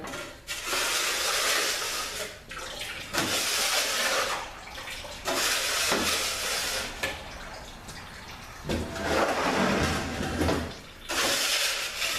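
Transmission fluid pouring and splashing out of an RE5R05A automatic transmission during teardown, a steady watery rush in long bursts separated by brief pauses, with no talking.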